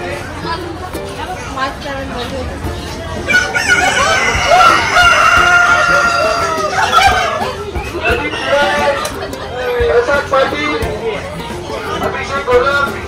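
A flock of poultry calls repeatedly, turkeys gobbling and fowl clucking and crowing, mixed with nearby people chattering.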